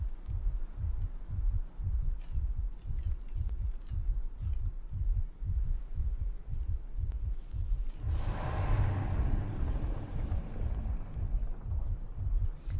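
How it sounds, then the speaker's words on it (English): A slow, deep, rhythmic heartbeat throbs steadily from the ice kraken creature in Fortnite, with a swelling rumble of wind-like noise joining partway through. "ice kraken and the heartbeat."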